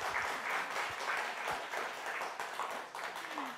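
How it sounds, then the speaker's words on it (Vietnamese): A studio audience claps to cheer on a contestant in a Vietnamese television quiz game show. The applause is steady and moderately loud throughout, with a few sharper individual claps standing out. "Chúng ta hãy cùng dành một tràng pháo tay để cổ vũ cho bạn Như Ý ạ"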